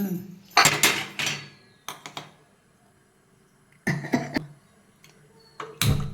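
Several loud metallic clanks and clatters as a griddle is placed on a stove, separated by quiet pauses, close by.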